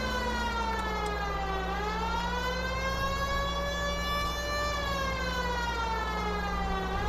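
A police car siren from the video game L.A. Noire wails on and on, its pitch sliding slowly down and back up over a steady engine rumble, loud and continuous, with no one speaking.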